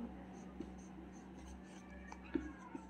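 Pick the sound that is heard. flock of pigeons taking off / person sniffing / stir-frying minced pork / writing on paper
writing on paper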